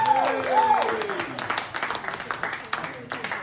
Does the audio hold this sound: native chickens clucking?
no